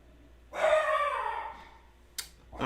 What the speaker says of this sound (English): Oh my gosh, this dog. Major, quiet.